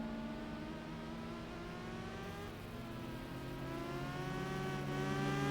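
Race car engines in Gran Turismo 4, a steady whining drone of several cars with rising and falling engine pitches as they rev together on track, continuous and even in level.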